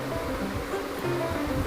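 Water pours into a golgappa filling mix just after lemon juice is added, a steady, close splashing gush that runs continuously without any talk.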